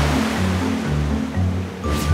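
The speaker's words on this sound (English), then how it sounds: "Do you remember the sound the water made when we were on the beach?" Ocean waves wash onto a sandy beach in a steady, loud rush of surf that swells and eases over two seconds, with no voices.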